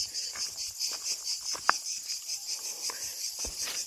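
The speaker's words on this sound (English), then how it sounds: "I don't know if you can hear the cicadas." A continuous high, pulsing cicada drone throbs in the background on a hot August day near an archaeological site by the beach in Perachora, Greece, steady and fairly loud, with faint rustles and a soft click or two nearby.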